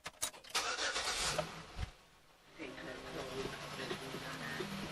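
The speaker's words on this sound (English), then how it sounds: "Now she cranks perfectly every time." A 2006 Chevy Equinox engine is cranked and catches. Sharp clatter comes first, then a brief lull, and the engine settles into a steady running hum while a person talks nearby.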